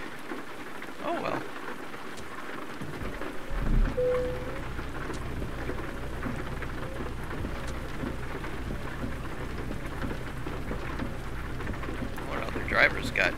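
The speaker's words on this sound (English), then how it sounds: "Oh, it took us right into the rain." Steady rain hisses throughout in American Truck Simulator after a quiet opening, with a low rumble underneath and a few short spoken words near the start.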